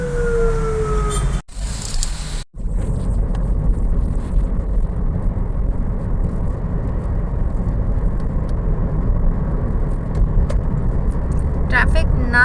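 Car driving along the Lyari Expressway, with steady loud road and engine rumble throughout, two brief dropouts early on, and people talking inside the car.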